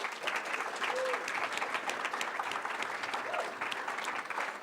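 A graduate showcase audience keeps up a long round of applause for Warren Tech students, steady crisp clapping heard from a moderate distance with a faint voice or two mixed in.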